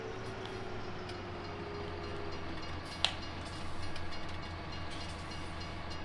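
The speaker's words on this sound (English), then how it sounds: "Train's coming." A train rolls past in Farming Simulator 19 with a steady low rumble and continuous wheel noise throughout, a sharp click partway through, and the rumble swelling slightly toward the end.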